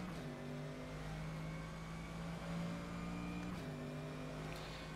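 A racing car engine in the video game rFactor 2 drones at steady high revs on the Le Mans track, its tone holding with small shifts in pitch, loud and continuous throughout.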